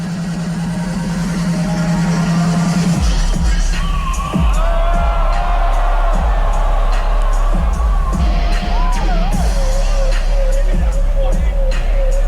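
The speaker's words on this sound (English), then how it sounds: "You can hear the crowd just going nuts." A crowd at a DJ set roars and whoops wildly, loud and sustained, over pounding electronic music with a deep kick and melodic synth lines.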